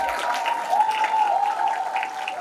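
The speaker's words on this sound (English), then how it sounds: "Can I have again huge applause to him?" Applause for a performer at a campus orientation event rings out steadily for a couple of seconds, a continuous, dense patter of many hands clapping with no voices over it.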